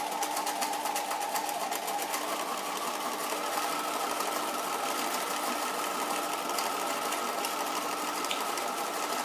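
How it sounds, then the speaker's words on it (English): A sewing machine stitches a straight seam with a continuous, fast, even mechanical whirr and needle patter, heard close and fairly quiet throughout with no talking. "lift your stitch length to make your machine sew backwards, and then go forwards all the way, keeping your raw edge on your guideline"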